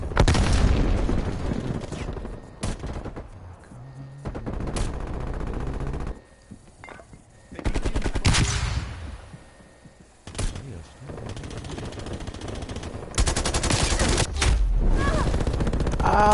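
Bursts of rapid automatic gunfire from Call of Duty on the Nuketown map, loud and repeated in several clusters separated by brief quieter gaps, with an excited player shouting between volleys.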